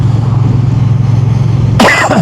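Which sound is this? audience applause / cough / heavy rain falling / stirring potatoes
cough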